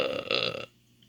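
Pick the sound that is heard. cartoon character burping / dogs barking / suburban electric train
cartoon character burping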